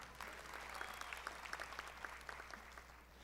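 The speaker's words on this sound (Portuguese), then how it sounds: "uma salva de palmas para ela" An audience at a restaurant business talk applauds with scattered, distinct hand claps over a low steady hum. The clapping sounds fairly faint and distant and tapers off near the end.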